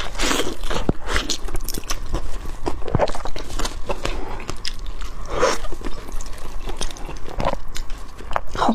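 Sweet and spicy fried chicken is bitten and chewed up close, with repeated crisp crunches and wet chewing at an irregular pace, loud and near, with no speech.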